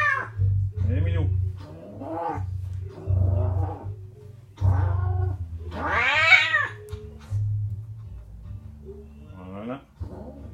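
A cat named Flocon being groomed and detangled at a Paris grooming salon growls low and lets out several drawn-out meows, close and loud, under a groomer's ongoing French speech.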